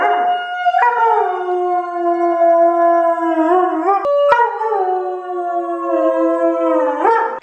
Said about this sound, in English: You need to work on your howl.